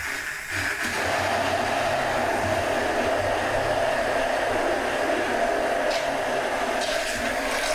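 A blender purées a tomato sauce for patatas bravas after the bay leaf and cayenne have been removed, a loud, steady motor whir that runs on without pause for several seconds.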